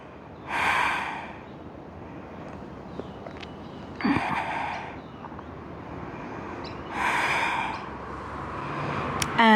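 Deep, audible breaths during a yoga forward fold, three slow airy inhale-exhale swells spaced a few seconds apart, close and fairly soft over a quiet room, with a faint click at the end.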